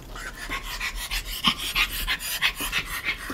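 A pet dog pants quickly and steadily up close, a rhythmic run of breathy huffs at a brisk pace, fairly quiet with a faint low hum underneath.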